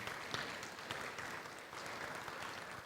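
A church congregation applauds with a steady wash of clapping that holds at an even, moderate level, slightly distant in the room, with no talk.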